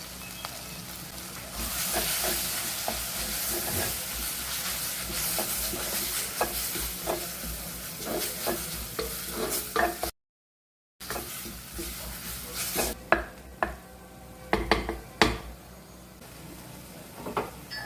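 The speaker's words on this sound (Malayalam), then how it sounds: "1 teaspoon ginger garlic paste, 1 table spoon chilli sauce ആണിപ്പോൾ ചേർത്തത്" Ginger garlic paste and chilli sauce being stirred in a pan for egg curry, a soft frying hiss with repeated spoon scrapes and taps that sharpen toward the end after a brief silence.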